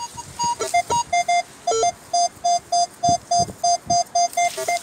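A metal detector's electronic signal beeps while searching an old farm field, a steady run of short, evenly spaced tones with a few higher and lower pitched blips mixed in, loud and close, with no talking.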